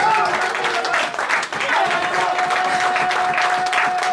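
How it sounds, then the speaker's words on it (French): A church congregation applauds and cheers during a sermon, loud continuous clapping with crowd voices and a sustained tone running beneath. "Donne-moi une acclamation"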